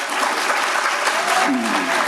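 People in a legislative hearing room break into a brief burst of clapping and cheering, dense and fairly loud, with a voice rising over it near the end.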